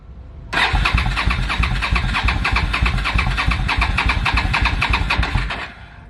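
A Suzuki Marauder 800 motorcycle that has not run in a while cranks on its electric starter without firing: a loud, fast, even churning that runs for about five seconds, then stops.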